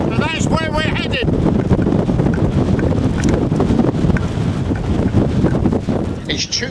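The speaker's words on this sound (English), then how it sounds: "It's too windy to hang around on the top today" Strong wind on the hilltop of Sale Fell in the Lake District roars and buffets against the microphone without letup, a loud rushing noise with a few brief bird chirps near the start.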